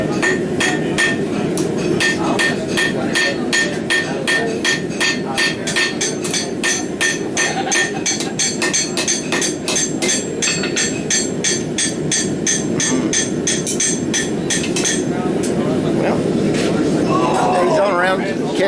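A rapid, steady run of hard metallic blows from a power hammer striking metal repeats for many seconds at a blacksmiths' hammer-in, loud and close, with voices chattering underneath.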